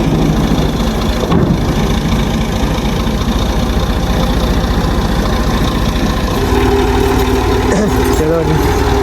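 A tractor with a trolley hitched idles loudly and close, a steady low diesel chug that runs unbroken throughout, with voices faintly audible under the engine.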